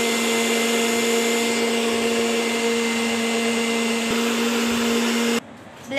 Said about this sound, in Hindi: ब्लेंडर हमने तकरीबन 30 सेकंड तक ऑन किया।